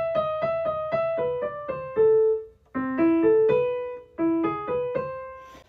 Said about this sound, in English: Here's how to play Für Elise by Beethoven on the piano.